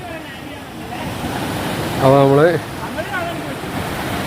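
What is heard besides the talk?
Karamana river water flowing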